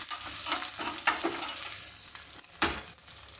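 Curry leaves frying in a small kadai for dal, a quiet crackling sizzle with a few sharp clinks and scrapes of a spoon against the metal.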